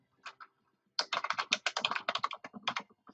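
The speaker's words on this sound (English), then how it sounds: "you simply type in the title box and it'll change it over here on the right side" Typing on a computer keyboard: a few isolated key taps, then a fast close burst of rapid clicking keystrokes in a quiet room, with no talk.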